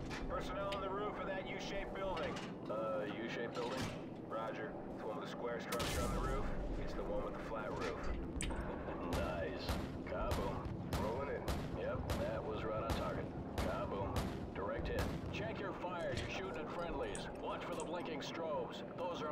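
Rapid video game gunfire crackles in dense bursts and steady volleys throughout, with voices talking over the shooting.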